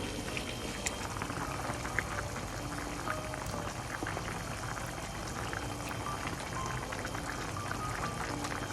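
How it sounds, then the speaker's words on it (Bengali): A broth for rohu fish curry with snake gourd, boiling: continuous dense bubbling and gurgling at a steady low level, close by, with no talking. "দেখেন আমার ঝোলটা ভালো করে ফুটে গেছে"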